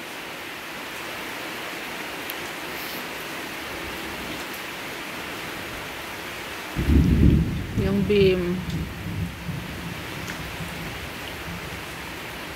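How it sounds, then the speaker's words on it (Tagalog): Thunder rolls in during a thunderstorm at a home construction site where a dirty kitchen is being built: a steady rain-like hiss, then a loud low rumble about midway that slowly fades, with brief speech. "Merong kulog."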